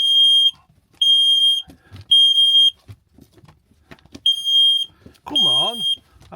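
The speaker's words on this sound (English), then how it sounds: "I'm going to be setting fire alarm off in a minute." Smoke alarm in a camper van set off by breakfast cooking, sounding a run of loud, piercing electronic beeps in evenly spaced bursts, with a brief voice during the final burst.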